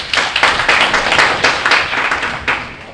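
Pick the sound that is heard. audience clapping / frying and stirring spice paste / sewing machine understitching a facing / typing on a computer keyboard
audience clapping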